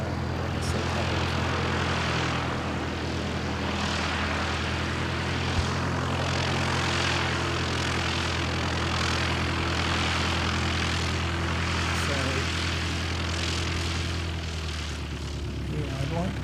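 At Christchurch airport, a propeller aircraft passes as a steady, broad engine drone with a constant low hum, holding loud and even throughout, while voices talk over it.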